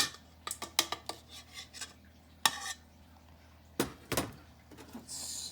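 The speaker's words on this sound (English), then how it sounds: "Let's stir that." A spoon stirs gluten-free brownie batter with chocolate chips in a bowl, giving close, soft scraping and clinking strokes in irregular bursts with short pauses between them.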